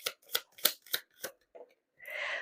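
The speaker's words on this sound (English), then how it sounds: "You saw me shuffle." Tarot cards are shuffled by hand, giving a series of crisp, quick riffles and snaps in an uneven rhythm. A brief pause follows, then a short, softer sliding rustle, all close up and alone.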